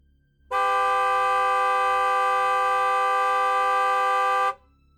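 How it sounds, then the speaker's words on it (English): A single loud, steady bus horn blast holds for about four seconds and then cuts off, with faint engine rumble underneath, on a Chicago street. "a bus pulled up behind him and honked multiple times"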